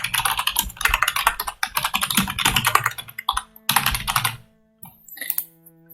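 Typing on a computer keyboard in quick, irregular bursts of close clicking keystrokes, pausing briefly before a few final scattered taps.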